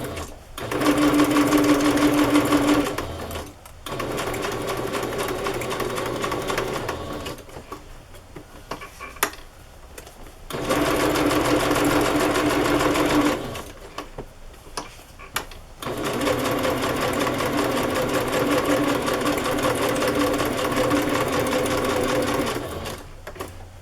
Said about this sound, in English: I guess I want to do straight stitch on this.